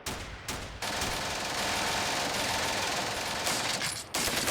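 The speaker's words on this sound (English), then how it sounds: "I do have this light machine gun here." Light machine gun fire in the Steel Panthers WWII strategy game: a brief burst at the start, then a long sustained rattling fusillade that fills nearly the whole clip, loud and continuous, with a short pause near the end.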